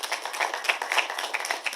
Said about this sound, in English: A big round of applause for Deepika.